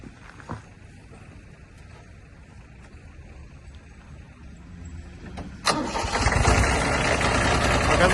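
A Kubota ZB1-15 Japanese mini tractor engine cranks quietly before firing up abruptly and settling into a loud, steady running rumble near the microphone.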